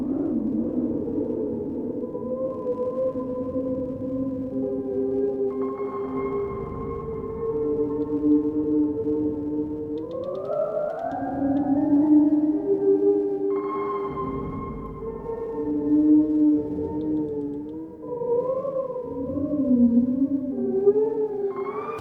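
A disting EX module runs variable sample rate reverb modulated by an LFO, producing sustained, bendy pitch-sweeping tones that glide and wobble like whale calls, continuous and alone with no voice.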